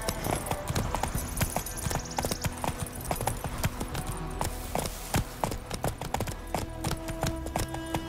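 Roach, a horse in The Witcher 3 video game, trots along with steady, rhythmic hoof clip-clops, close and clear over a faint background, while voices talk at times.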